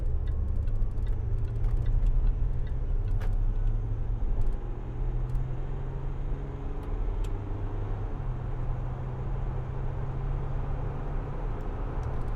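2012 Land Rover Discovery 4 with a 3.0 SDV6 diesel accelerating on the road, heard from inside the cabin: a steady, quiet low engine drone with road rumble and faint light ticking, no talk.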